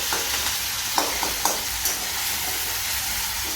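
Crushed green chilli and cumin sizzle in hot oil, a steady bright frying hiss with a few sharp crackles and pops scattered through it, close and continuous, with no talking.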